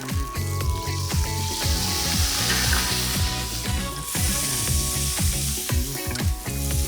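Melted butter sizzles and crackles steadily in a hot pan for an Ethiopian spinach dip, with repeated stirring or scraping thumps throughout and no talking.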